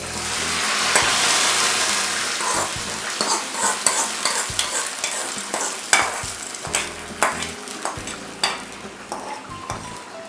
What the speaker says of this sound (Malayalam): ഇനി നമ്മൾ കടുക് തളിച്ചതും കൂടെ ചേർത്ത് കഴിഞ്ഞാൽ കറി റെഡിയാവും